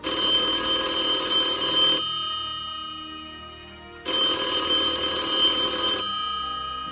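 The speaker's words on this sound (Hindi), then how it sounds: "फोन की घंटी बजी।" A telephone bell rings in two long bursts separated by a pause, loud and close, with no voices.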